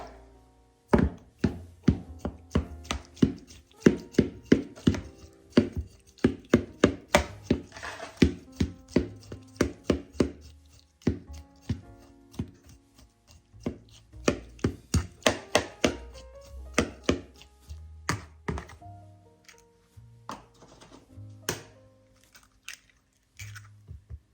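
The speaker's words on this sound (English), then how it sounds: "Oops, I forgot to cut up my apples." A knife chops apples on a cutting board for a caramel apple dump cake, making a long run of quick, close, crisp knocks in uneven bursts with short pauses between them.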